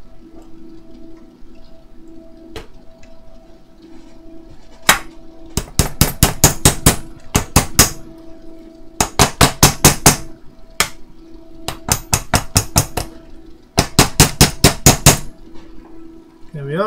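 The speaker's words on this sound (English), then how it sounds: "here's my slightly bigger hammer than usual" A slightly oversized hammer strikes metal in quick bursts of five to eight sharp ringing blows, the groups separated by short pauses, loud and close over a faint steady hum.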